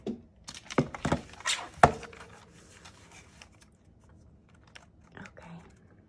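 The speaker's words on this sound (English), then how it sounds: "Maybe I want my trimmer to make it straight." A paper trimmer cutting a journal page straight, a few close sharp clacks and a quick sliding cut near the start, then quiet handling noise and a couple of soft taps.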